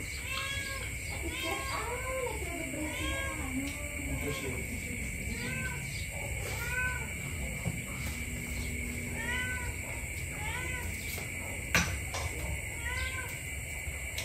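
A cat meows repeatedly in short, faint calls at a rural home, scattered through steady outdoor ambience with a constant high insect-like whine and occasional talk in the background.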